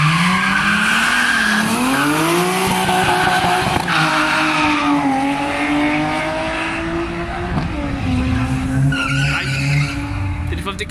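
A Nissan 350Z drag races down the strip at Killarney International Raceway, a loud roaring engine climbing through gears with squealing tires, accompanied by other cars and people talking excitedly over the noise.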